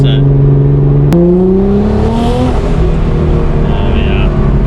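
A 1300 BHP Nissan R35 GTR fitted with an HKS GT1000+ turbo kit pulls hard, its engine note climbing steadily in pitch with a brief break near the start, loud and close over a constant roar.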